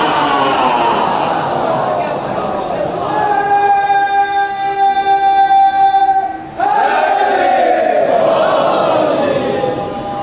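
Crowd voices rise together in a loud, sustained chant of religious slogans at a Muharram mourning gathering in Bijnor, held as long unified tones, then breaking off and resuming with a rising swell.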